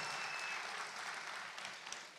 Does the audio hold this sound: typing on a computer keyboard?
no